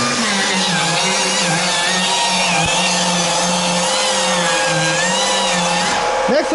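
Power sander working on the body of a Fiat Topolino coupe, a steady high whine with a wavering pitch running close and continuous under intermittent talk.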